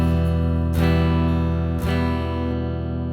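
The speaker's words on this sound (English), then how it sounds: "give it a nice big strum" A six-string guitar chord is strummed in two full downstrokes about a second apart, each a bright burst that rings out loud and sustained, played alone without talking.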